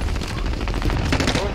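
Rapid, dense machine gun fire in Call of Duty Warzone, a continuous loud burst of shots with booming low rumble and no pauses.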